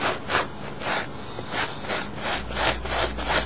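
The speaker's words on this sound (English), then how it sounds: "next I'm going to take this scrub wire" A wire scrub brush rasps back and forth across denim skinny jeans being distressed, giving a steady run of about eight close, rhythmic scrubbing strokes with no talk.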